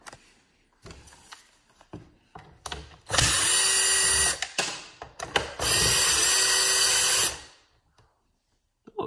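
A power drill whirs in two long, loud bursts of several seconds each, driving screws during a leaf blower teardown, with shorter revs and clicks of handling between them, close up.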